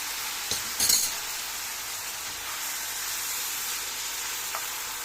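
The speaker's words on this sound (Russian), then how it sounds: "Жарю на большом огне." Salad dressing with soy sauce frying in a pan over high heat, a steady close sizzle with a brief stir or utensil clink near the start.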